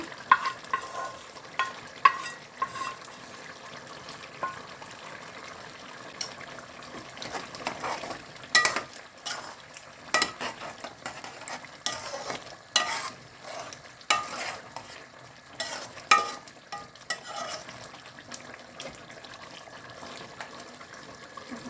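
Fried onions (beresta) are stirred into country chicken frying with potatoes for a spicy curry, giving a soft ongoing sizzle broken by repeated scraping and clacking stirs of a spoon against the pot, close by and without talking.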